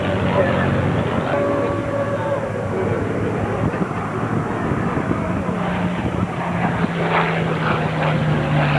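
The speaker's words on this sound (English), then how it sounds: "Airplanes on the ground, airplanes trying to take off." Propeller airplanes at the EAA Oshkosh 2009 airshow, a loud continuous engine drone and rumble with shifting pitch as aircraft pass, heard alongside a public-address voice commentating over the field.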